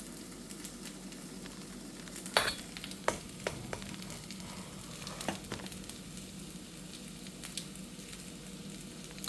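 Whisking a hot eggnog mixture in a pot just taken off the heat produces a continuous soft scraping and swishing. Scattered sharper clinks of the whisk against the pot cut through, with no voices.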